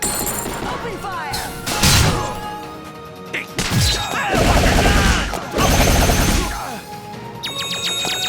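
Gunfire volleys in the video game Indivisible come in loud, sharp bursts, several crashing blasts separated by brief gaps, mixed with ringing metallic game effects.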